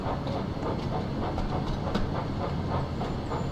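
A train runs in the video game Thomas and Friends Wonders of Sodor, a quiet, steady rolling rumble with faint rhythmic clicking of wheels over track joints.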